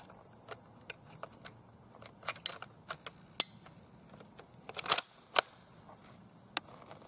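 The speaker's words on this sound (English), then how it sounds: "load up another couple of rounds." Metallic clicks and clacks of rounds being loaded into an Italian M38 Carcano 6.5x52 rifle with an en-bloc clip, a dozen or so sharp near transients at irregular intervals with a brief cluster of louder clatter midway.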